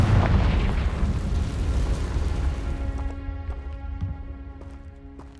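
A spell blast goes off in Hogwarts Legacy, a deep booming explosion that rumbles and slowly decays, followed by faint ringing magical chimes as it fades.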